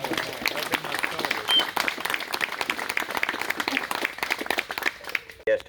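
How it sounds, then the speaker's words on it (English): An outdoor crowd claps at a Gettysburg anniversary living-history program, dense irregular applause that continues throughout while voices talk and call out over it. "How about a round of applause for these two?"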